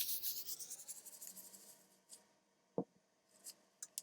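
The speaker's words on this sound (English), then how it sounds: "start rubbing this over the surface and sort of buffing it up to help giving it a little bit shinier of a surface" A piece of clean plastic buffed over the dry terra sigillata surface of a fragile pinch pot, making soft, rhythmic close-up rubbing strokes that fade out, then a few isolated light scrapes and taps.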